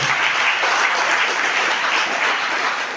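Congregation in a French-language church service applauding to acclaim Jesus, a dense, steady wash of clapping from many hands filling the room for three seconds without a break.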